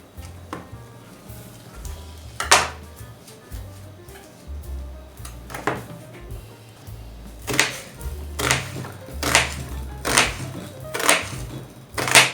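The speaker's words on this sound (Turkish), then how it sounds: "Evet arkadaşlar soğanı unutmuştum. Şimdi doğruyorum." An onion is chopped with a knife on a board for a salad: a run of sharp, evenly spaced chops, sparse at first and then quicker and steadier, close and fairly loud over a quiet kitchen background.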